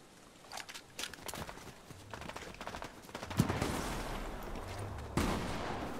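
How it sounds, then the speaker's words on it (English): Fortnite gunfire crackles in quick bursts and rapid volleys, close and punchy, with shots clustering around brief pauses and a sharp crack near the end. "Someone's shooting you?"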